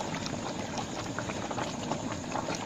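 A pot of banyan decoction boils on a stove, giving a steady, close bubbling and popping with a continuous hiss throughout and no voices.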